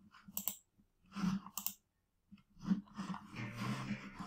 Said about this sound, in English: So you click this button.